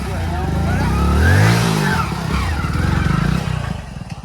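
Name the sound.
motorcycle engine being started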